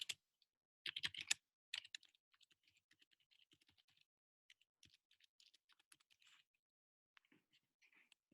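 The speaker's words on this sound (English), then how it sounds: "I'm just going to type it in." Quiet keystrokes on a computer keyboard, typed in a brief rapid burst and then in sparse, irregular light taps, close and soft in a still room.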